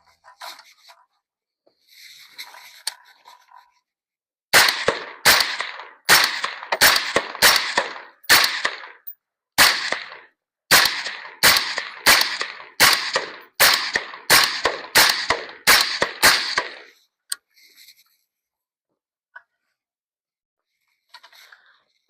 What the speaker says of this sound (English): Sound suppression at the shooter's perspective is much better than without the suppressor, of course.